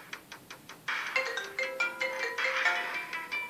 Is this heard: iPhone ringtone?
yes